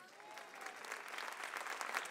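A church congregation claps during a sermon, the applause faint and distant, building slightly over a couple of seconds.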